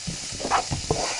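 Onions seasoned with pepper and salt sweat in a pan with a steady soft sizzle, broken by a few brief stirring scrapes and clicks close by, no voices.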